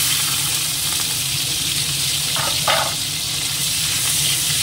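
Prawns fry in hot oil with a single dried red chilli, giving a steady, close sizzle and hiss with a brief burst of louder crackling partway through, and no voices.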